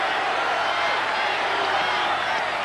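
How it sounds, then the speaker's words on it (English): Large stadium crowd at a 1985 World Series baseball game, Cardinals at Royals, a dense continuous roar of many voices chanting a name, loud and sustained with no clear gaps. "Crowd chanting, Charlie,"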